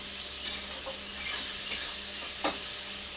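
Chicken cooking in a pot gives a steady bright sizzle, with a couple of brief stirring scrapes breaking through near the middle and end.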